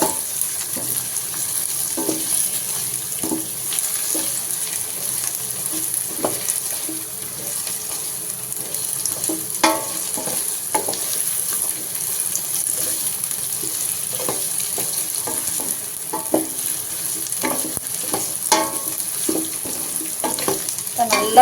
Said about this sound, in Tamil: அப்போ தான் வந்து அந்த வெங்காயம் வந்து நல்லா ஃப்ரை ஆகும்